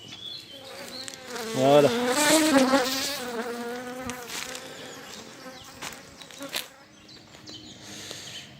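Honeybees buzz steadily around three equipped beehives as someone speaks briefly over the dense, close insect hum.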